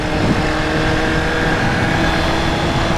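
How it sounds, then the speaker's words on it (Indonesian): Steady, roaring wind buffets the microphone without a break, a dense rushing noise like riding fast on an open motorbike, heard while riding a motorcycle. "itu suara angin yang kita dengar kalau kita lagi naik motor atau lagi naik sepeda"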